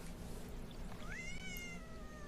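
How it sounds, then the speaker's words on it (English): A kitten in a cozy monsoon survival game gives one clear, rising then falling meow, close and distinct over a steady low background hum. "Okay, found a kitten."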